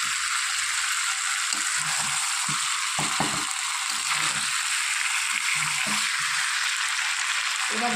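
Fried potatoes go into chicken kasha cooking in a pan, giving a steady, close sizzle with scattered clinks and scraping against the pan.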